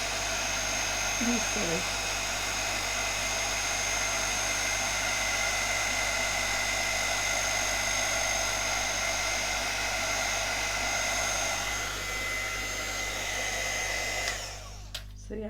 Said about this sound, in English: that heat gun is going to be on that acetate for a little while